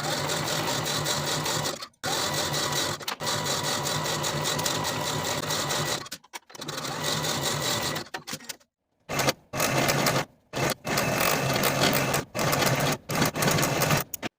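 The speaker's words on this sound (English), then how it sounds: "sew from the top of that seam straight down to the bottom" A sewing machine runs a zigzag stitch down a seam on a handmade cardigan, a loud steady mechanical whir in long bursts broken by short pauses.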